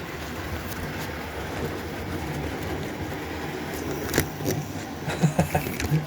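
A model train rumbling past close by on a layout, building to a clatter of rhythmic clicks and knocks toward the end.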